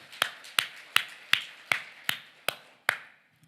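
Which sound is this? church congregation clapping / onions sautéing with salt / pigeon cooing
church congregation clapping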